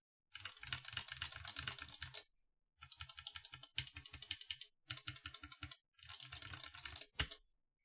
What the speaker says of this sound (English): Vint Blacks,